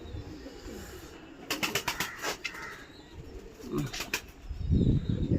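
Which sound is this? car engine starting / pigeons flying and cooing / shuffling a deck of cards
pigeons flying and cooing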